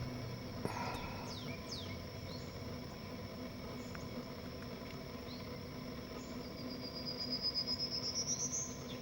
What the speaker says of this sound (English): Listen to the singing